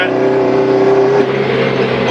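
A Honda Civic Si engine floored, a loud sustained droning rev with a steady tonal whine and a slight shift partway through, heard close up with no pause.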